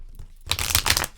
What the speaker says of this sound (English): we're just going to go ahead and shuffle them a couple more times here